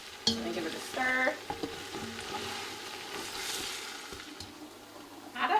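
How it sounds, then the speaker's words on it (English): Kabuli palou rice pilaf with salt and masala spices being stirred as it fries in a pot, scraping spoon strokes over a soft continuous sizzle, close and alone. "And give it a stir."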